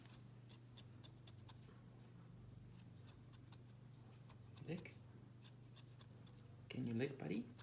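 Thinning shears snip through a dog's fur during grooming, giving soft repeated cutting clicks over a steady low hum, with a voice speaking briefly near the end.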